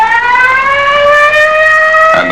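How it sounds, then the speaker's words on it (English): Air raid sirens wail across New York City in 1951, a loud sustained rising tone that holds steady before cutting off abruptly near the end. "Then the sirens scream"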